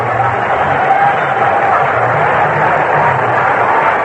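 A vintage 1980s Angels home crowd at a baseball stadium, heard on a radio broadcast of the Royals at Angels. It makes a dense, steady wash of murmur and cheering throughout, loud and unbroken.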